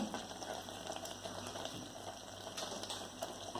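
Thiruvathira puzhukku, a thick mixture cooked with coconut, simmering in a pot, giving a faint soft bubbling and gurgling over a quiet steady background, with no talking.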